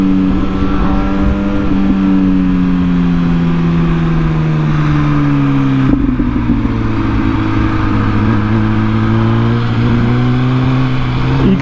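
An MV Agusta Brutale 1000 Serie Oro Limited Edition motorcycle engine, loud and close, holding a strong steady drone whose pitch sags and rises gently while riding, with no voices over it.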